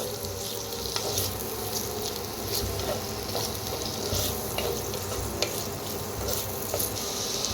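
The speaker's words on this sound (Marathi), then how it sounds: "थोडंसं मीठ टाकूया, म्हणजे लगेच भाजला जातोय कांदा।" Finely chopped onions sizzle and crackle in a hot pan, a steady close frying hiss with occasional stirring clinks and scrapes, no voices heard.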